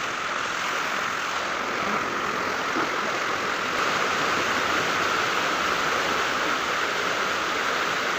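Dam water gushing at high speed out through open sluice gates, a loud, steady broadband roar that holds unbroken and close throughout, with no voices over it.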